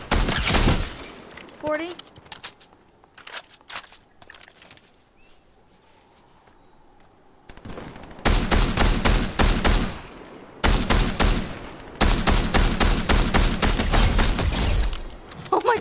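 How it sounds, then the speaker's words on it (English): Bursts of rapid automatic fire from a duos battle-royale shooter game come in loud, sustained volleys, with a few isolated shots earlier amid quieter stretches, and players talk briefly under the firing. "Someone's shooting."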